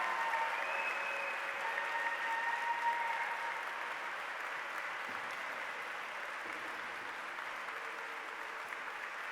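A graduation audience at York St John claps continuously and densely, a broad, steady wash of applause from a large crowd filling the hall, easing off slightly toward the end.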